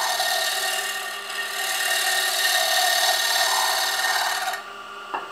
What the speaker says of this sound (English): I'm going to pull the handle out a little bit, and I'm just going to shear scrape.